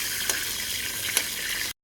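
Whole spices, shahi cumin, bay leaf and dried chillies, sizzle in hot oil as they are stirred, a steady close crackle with two brief spoon scrapes before it cuts to silence.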